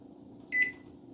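A kitchen timer being set for 30 minutes gives a single short, high electronic beep over a faint background hum in a quiet kitchen.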